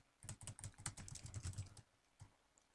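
Rapid keystrokes on a computer keyboard while entering Android code for a landscape-mode setting, a dense close burst of clicks for under two seconds, then one or two stray taps before falling quiet.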